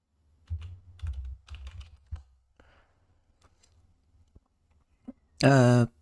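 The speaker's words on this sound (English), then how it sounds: "just type in add user" Keystrokes on a computer keyboard during a Linux installation, a few quick clusters of close clicks and taps, then a short spoken word at the end.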